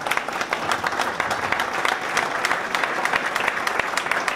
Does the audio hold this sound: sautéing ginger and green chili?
no